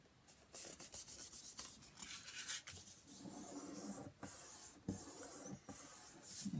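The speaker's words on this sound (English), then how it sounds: "we're going to fold along this middle line" Paper being folded along a middle line while making a 7 x 5 inch folio album, heard as continuous close rubbing and scraping with a few short crisp creasing strokes, no talk.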